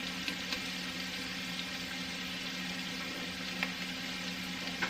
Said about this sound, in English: I'm just going to let them kind of fry on that one side, crisp up